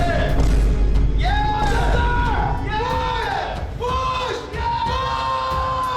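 A man screams loudly while straining through a heavy biceps lift challenge, his drawn-out yells mixed with other voices shouting and cheering around him.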